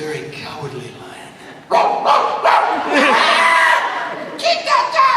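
A voice performer mimics a dog, giving rough barks and yips from a live stage panel, with excited crowd noise and cheering surging behind the imitation.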